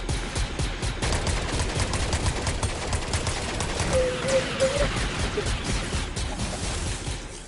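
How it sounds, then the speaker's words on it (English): Rapid bursts of pistol gunfire in Fortnite, Star Wars mode, cracking in quick repeated volleys across the whole stretch, loud and close, with a brief tonal game effect partway through. "Oh, I love these pistols."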